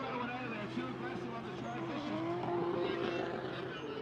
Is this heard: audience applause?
no